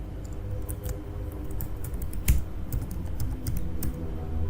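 Steady typing on a computer keyboard while entering an FTP password for a Hostinger account, with quick uneven clusters of close, light key clicks and no speech.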